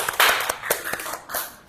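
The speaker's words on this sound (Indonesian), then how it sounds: "Tepuk tangan buat kelompok 2." Scattered classroom applause after a group's physics demonstration, a few sharp uneven claps and short bursts from a small group, fairly close, with no talking.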